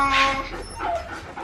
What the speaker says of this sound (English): No, he's a little puppy.